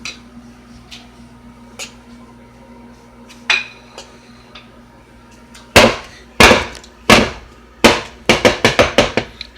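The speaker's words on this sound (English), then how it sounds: "I'm gonna give it a couple of taps." A metal pound cake pan full of batter is tapped on a kitchen counter, a few sharp clanks at first, then a quick run of loud ringing knocks toward the end, close with no talk.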